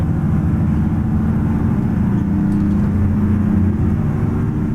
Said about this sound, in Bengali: গাড়ি আসতেছে গাড়ি আসতেছে